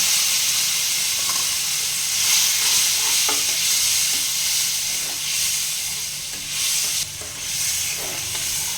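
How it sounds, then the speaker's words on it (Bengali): Spice masala of cumin, coriander and turmeric powder frying with a little water in a pan: a steady, bubbling hiss and sizzle with intermittent stirring scrapes, close up and without voices. "এখানে আমি মশলাটা ভালোভাবে কষে নেব"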